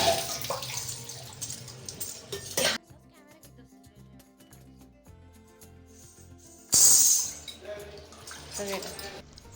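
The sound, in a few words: rinsing ankle bells in water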